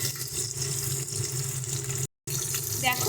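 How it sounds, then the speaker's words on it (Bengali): Paneer frying in a pan on a stovetop for a capsicum and tomato paneer dish: a steady, loud broadband sizzle runs throughout, briefly cut by a short gap of silence. "ভালো মতন করে পনিরটাকে ভেজে নেব।"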